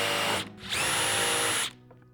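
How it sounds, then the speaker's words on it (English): A power drill bores holes into wood for a toolbox: a loud, steady high whine in a short burst, a brief pause, then a longer sustained run that stops abruptly, close by with no talk. "All right, and then drill them."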